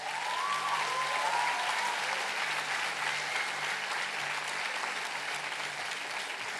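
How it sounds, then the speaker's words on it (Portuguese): A church congregation applauds throughout, the clapping sustained and fairly even with no speech over it. "Vamos aplaudir?"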